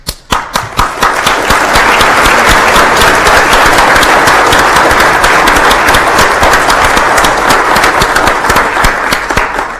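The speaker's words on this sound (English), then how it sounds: "We wanted to get you clapping." A few scattered claps open, then a conference audience at Penn State breaks into loud, sustained applause, thick rapid clapping filling the room until it eases slightly near the end.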